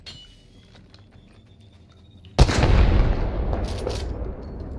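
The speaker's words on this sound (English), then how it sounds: "Let me shoot him with the Kraber." A single heavy Kraber sniper rifle shot in Apex Legends cracks loudly after a quiet stretch, followed by a long, rumbling tail of echo and game noise that slowly fades.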